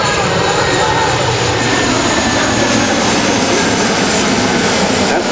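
A Lockheed C-130J-30 Hercules flies an approach at an Air National Guard open house, its turboprop engines giving a loud, sustained drone and roar that holds steady throughout.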